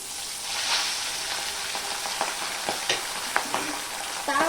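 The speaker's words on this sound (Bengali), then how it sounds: "এবারে এক এক করে আমি মাছগুলোকে ভেজে নেব" Pabda fish with a little turmeric frying in a pan, giving a steady close sizzle throughout with a few sharp crackles and pops near the end.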